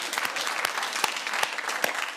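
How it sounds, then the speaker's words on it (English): Studio audience on a British TV panel comedy show breaking into a short burst of steady, even applause, many hands clapping at close range with no voices over it. "That's the first loyal bit of applause I've seen."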